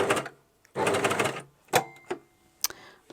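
A new cover stitch sewing machine hems a Freya top in short bursts of fast, even needle chatter, close and moderately loud, separated by quiet gaps and a few sharp clicks.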